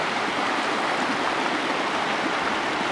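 A river rushes steadily near Kausani, India, a dense continuous hiss like a fast stream, fairly close and unbroken.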